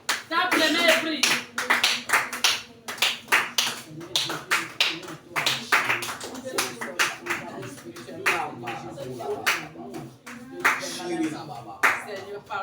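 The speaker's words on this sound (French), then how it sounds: "Tape les mains et prie." A church congregation at a prayer meeting in Lomé claps hands while praying, the sharp irregular claps close and loud over a steady hum and mixed with overlapping voices.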